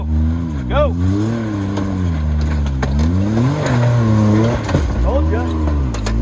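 A Can-Am Maverick R off-road vehicle's engine revs and labors while climbing a rock on the Rubicon Trail, with loud rising and falling throttle surges close by throughout, and people talking and shouting over it.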